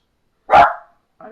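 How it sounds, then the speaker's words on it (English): A single loud, close dog bark rings out indoors, followed a moment later by the start of a second, quieter bark. "I apologize for the dog."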